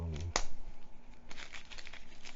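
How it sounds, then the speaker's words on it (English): Plastic wrapping being peeled and crinkled off pieces of the Forbidden Island board game, with a sharp tearing snap near the start followed by steady close crackling. "I'm trying to unwrap that other stuff like in previous videos"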